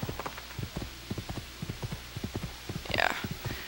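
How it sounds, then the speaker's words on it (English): Horse hooves clip-clopping in a steady trotting rhythm while riding in Assassin's Creed 2, a fairly close series of hollow beats with a brief brighter chime near the end. "Riding on horses in this game is, for long distances, is always kind of satisfying"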